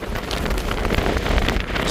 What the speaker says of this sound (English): It's very, very, very windy.